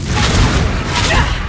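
A Confringo blasting spell explodes in the Hogwarts Legacy video game, a loud, dense burst of rumbling booms and crackling debris that fills the whole moment with no quiet gaps.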